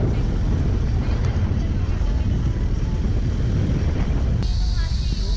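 Loud, steady rotor-like roar of a helicopter overhead, with constant low rumble and wind buffeting throughout.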